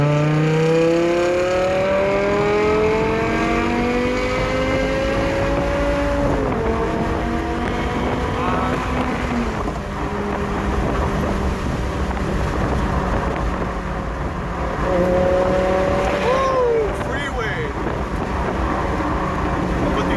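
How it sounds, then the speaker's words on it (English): A BMW M5 E60 super-sedan engine under way, loud and steady throughout, with rising and falling harmonic sweeps as revs climb and drop through gear changes, no talk over it. "You just hear the engine sound."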